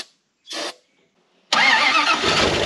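An old Dodge or Oshkosh dump truck engine cranks on the starter: a brief grinding burst, a pause, then a sustained loud cranking churn close by.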